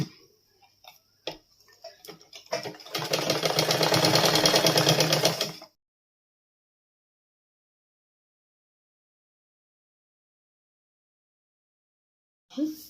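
A sewing machine stitches a tuck in a blouse lining, a rapid steady whirring run of about three seconds after a few short taps, then silence with a brief sound at the end.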